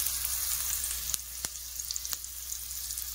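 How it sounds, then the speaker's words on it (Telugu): Bottle gourd pieces frying in ghee in a pan, a steady soft sizzle with a few faint clicks of stirring, close and alone. "ఇదే నెయ్యిలో మనం కొద్దిగా సొరకాయ వేసుకొని ఫ్రై చేసుకుందాం."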